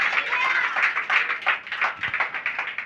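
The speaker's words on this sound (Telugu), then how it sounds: "అందరూ చప్పట్లు కొట్టాలి. అందరూ బిగ్గరగా" A church congregation clapping loudly together during a pastor's sermon, producing a fast, steady run of rhythmic claps close by with no pauses.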